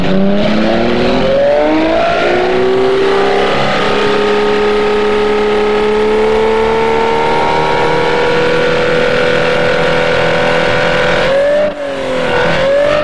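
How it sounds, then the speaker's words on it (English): A simulated V12 engine in the Automation car-building game revs loudly and steadily, its pitch climbing and dropping through several fake gear shifts, with a brief dip near the end and no talking. "I'll show you the engine as is by doing some fake gear shifts for a while"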